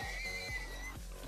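A horse in Minecraft whinnies in a high, quavering neigh, faint and thin over a steady low hum.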